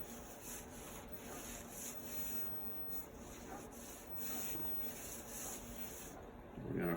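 Hands rub seasoning into a prime rib in a steady, quiet scrubbing texture that continues evenly, with a soft louder scuff at the end.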